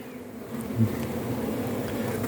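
A honeybee colony buzzes at the hive in the evening, a steady low hum of many bees droning quietly and close, with no voices.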